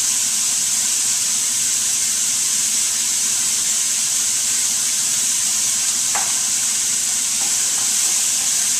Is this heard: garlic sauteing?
yes